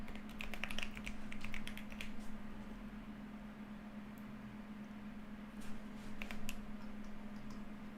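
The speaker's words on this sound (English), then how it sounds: "I'm really not used to typing on this fucking keyboard" Quick clattering keystrokes on an unfamiliar computer keyboard come in two bursts, one at the start and one later on, with a steady low hum underneath and quieter gaps between.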